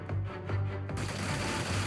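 An accelerated cannon fires at an alien fighter in the Xenonauts 2 strategy game, with a few rapid booming shots over a dense, steady rumble.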